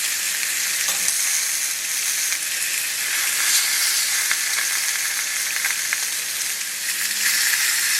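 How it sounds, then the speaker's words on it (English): A steak sizzles loudly on a hot griddle pan greased with cooking spray, giving a dense, continuous hiss that stays even and close for the whole stretch, with no voices. "And now I'm going to just place my steak right here"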